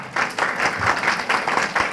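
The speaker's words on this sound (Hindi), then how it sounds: "ताली बजाओ।" An audience at a ceremony and class event in Kendrapada claps steadily and fairly close, a dense, even wash of applause with small rhythmic swells throughout.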